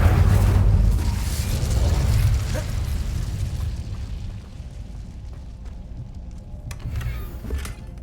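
The Incendio fire spell is cast in Hogwarts Legacy: a loud, roaring burst of flame that swells at once and then slowly fades into a low rumble.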